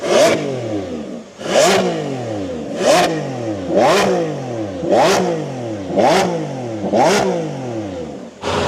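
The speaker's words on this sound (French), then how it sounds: "Voilà ce que c'est un V12 qui crie sa mère" A Lamborghini V12 supercar revs hard outdoors in repeated bursts, about seven sharp rising roars each followed by a falling crackle, loud and close with no talking.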